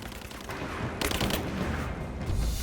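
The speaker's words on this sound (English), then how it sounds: "I'm taking fire." Enemy gunfire in Rise of the Tomb Raider, a dense, chaotic mix of rapid shots and booming impacts that swells louder partway through and continues throughout.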